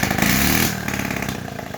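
A Honda engine running with no muffler fitted, loud and close, with a harsh rapid rasp that revs briefly and then settles to a choppy idle over under two seconds.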